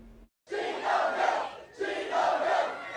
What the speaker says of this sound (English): The Powerball winners have not come forward yet, but that's not stopping crowds from celebrating.